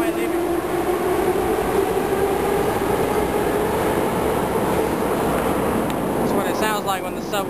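A Moscow subway train rumbles steadily through a tunnel as it departs, a continuous loud roar with a rising whine, and people talk faintly beneath the noise.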